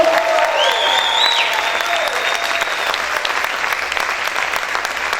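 A church congregation claps loudly during a Spanish-language sermon, a steady wash of applause, with faint tonal sounds drifting above it early on.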